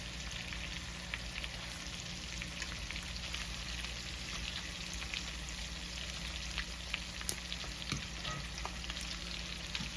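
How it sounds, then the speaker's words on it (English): Baby lamb chops sizzle and spit in garlic butter in a sauté pan, a steady close frying hiss dotted with small crackles and pops for the whole stretch. "I'm turning over the lamb chops."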